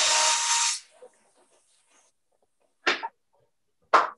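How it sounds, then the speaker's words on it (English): A hand drill bores a hole through a plastic container resting on foam packing, heard as a sustained loud whirring burst that stops abruptly, followed later by two short separate bursts; nearby and alone. "And drill the hole through."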